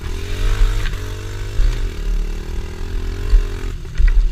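A trail motorcycle revs hard in the woods as the rider shifts into first gear, its engine rising and falling in loud, uneven bursts up close.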